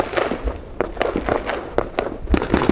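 Outdoor fireworks crackle and pop in quick, irregular bursts, a dense string of sharp bangs close by over a few seconds.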